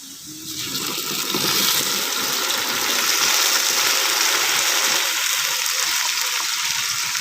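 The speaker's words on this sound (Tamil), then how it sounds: "ஒரு அரை கிலோ தக்காளி பழத்தை நாங்கள் மிக்சியில் அடித்து எடுத்துருக்குறோம் அதையும் இது கூட ஆட் பண்ணிக்கலாங்க" Blended tomato puree, half a kilo of tomatoes, pours into a pan for drumstick gravy, a steady wet gushing rush that runs unbroken for several seconds, close and fairly loud.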